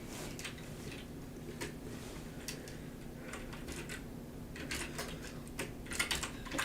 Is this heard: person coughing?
no